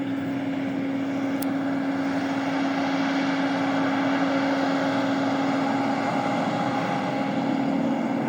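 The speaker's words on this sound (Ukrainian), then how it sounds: "Так, ось і комбайн йде." A John Deere S660 combine harvester working a sunflower field: a steady, droning engine hum with a constant low tone, unchanging and moderately loud throughout, no voices.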